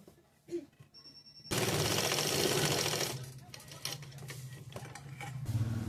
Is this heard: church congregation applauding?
no